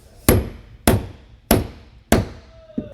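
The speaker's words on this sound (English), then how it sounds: "we're going to take a hammer and hammer this down to crimp the ring terminal on there" Four loud, evenly spaced hammer blows crimping a ring terminal during a vehicle management system installation, each a sharp metallic strike that rings out briefly, followed by a quieter fifth tap.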